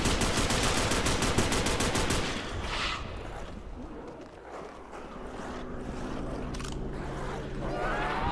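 An M60 machine gun in Call of Duty World at War zombies mode rattles off a rapid close burst for about two seconds, then gives way to a muddier mix of scattered distant shots and rumbling game noise.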